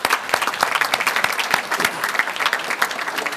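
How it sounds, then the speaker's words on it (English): An audience at a veteran awards ceremony breaks into applause, a dense patter of many hands clapping at moderate volume, steady for a few seconds with no talking. "Let's give him a round of applause"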